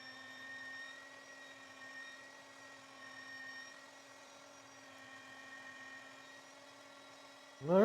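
An electric meat grinder grinds venison through a small grinding plate, giving a steady, fairly quiet motor hum with a tonal whine throughout, before a louder burst at the very end.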